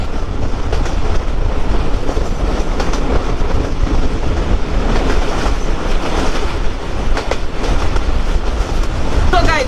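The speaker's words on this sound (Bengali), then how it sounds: "আমরা হচ্ছে এখনই ছাড়বে ট্রেন।" Sundarban Express passenger train with Chinese-built coaches pulling out, a loud steady rumble and rolling clatter of wheels on rails close by, continuous throughout with no talk.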